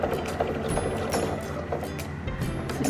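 A sewing machine stitches a diagonal line across fabric for a stitch sampler, a close, steady mechanical clatter of rapid needle strokes with a brief change in pace.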